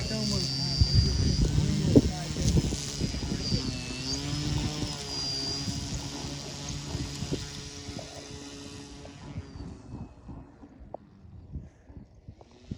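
Large Hangar 9 Cessna 182 RC model airplane with a 95-inch wingspan taxiing on its maiden outing, a steady near engine drone with shifting pitch under ongoing outdoor talk, fading toward the end.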